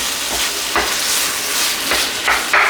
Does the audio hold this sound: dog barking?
no